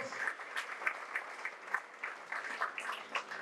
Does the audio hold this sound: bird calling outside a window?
no